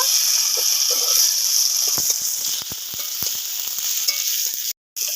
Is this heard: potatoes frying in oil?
yes